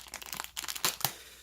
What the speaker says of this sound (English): So I just took it out of the plastic bag